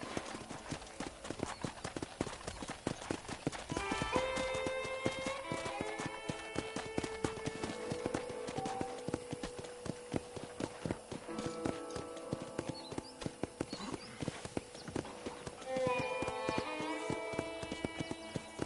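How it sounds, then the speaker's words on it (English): Horse hooves clip-clop in a steady, rapid rhythm throughout, with musical tones and a voice talking intermittently over the hoofbeats, in the video game Red Dead Redemption on PS5. "let's see if you can still ride a horse."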